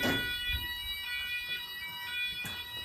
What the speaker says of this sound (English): if you press that button, that will start the exit timer